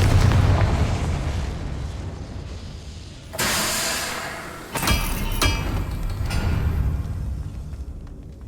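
A Confringo explosive spell cast in Hogwarts Legacy bursts loudly, followed by a second sharp blast, with crackling rumble and fading debris noise around them.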